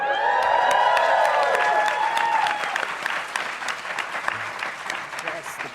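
An audience claps and whoops at a TwitchCon panel in a theater, loud and dense at first with a high cheer on top, then thinning into scattered clapping as the cheering drops away.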